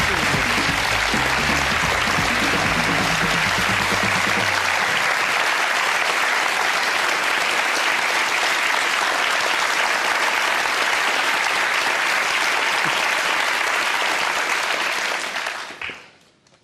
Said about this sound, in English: Are you getting used to the applause already?